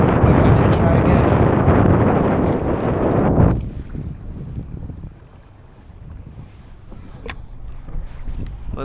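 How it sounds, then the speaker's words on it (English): Strong gusty wind at a beach in Lauderdale during kayak fishing, heavy roaring buffeting across the microphone for a few seconds, then easing to a lower rushing bluster with surf-like noise underneath. "it's just too windy, not too much going on"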